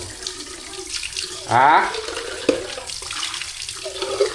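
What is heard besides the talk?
water being poured into a glass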